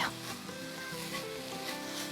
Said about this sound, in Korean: 이제 이거 채쳐놨던 잡멸치 이렇게 넣어서 휘리리 요거를 재빨리 섞어주세요